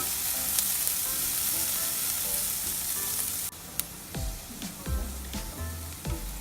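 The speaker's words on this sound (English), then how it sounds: "So I'll just stir it till they get golden brown." Onions fry in a pan, a steady sizzle stirred until golden brown, with a few scraping utensil strokes near the end.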